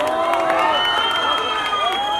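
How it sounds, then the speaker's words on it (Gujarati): A crowd at a restaurant inauguration cheers and claps for a film team, a dense, steady roar of overlapping shouts and voices with applause underneath, close and loud for the whole moment. "એટલે તમારા માટે એકવાર પ્લીઝ તાળીઓ પાડી દો."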